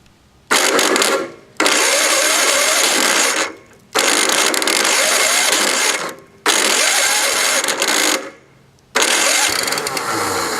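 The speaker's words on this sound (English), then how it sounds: "That starter motor and that flywheel are not jiving." Starter motor cranking the engine of a vintage, rusty snowblower: four loud, close bursts of whirring cranking, each lasting about two seconds, with short silent gaps between and no sign of the engine catching.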